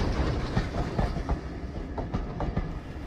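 Train on the Tanfield Railway, a steady rumble with repeated clickety-clack wheel beats over rail joints, close and moderately loud, with no voices.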